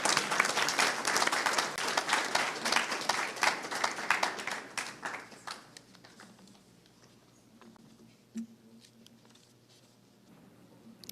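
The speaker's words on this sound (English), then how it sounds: "let's give y'all another round of applause" At a school board meeting, a group claps for honorees, with loud, dense clapping for the first few seconds that thins out. Quieter room noise and scattered sounds follow.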